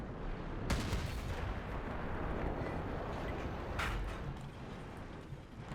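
Tank cannon fire in World of Tanks, T-54 gameplay: two heavy booms, one early and one later, stand out over a continuous low battle rumble.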